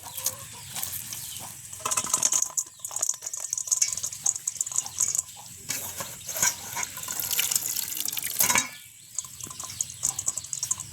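Wet, trickling and dripping water sounds as liquid is squeezed by hand out of grated papaya, with chickens clucking faintly in the background.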